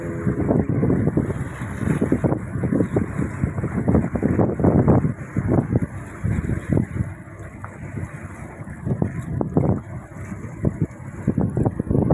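Wind battering a boat out at sea, with steady gusting roar and microphone buffeting over churning water and hull noise, continuous and loud throughout with no talking.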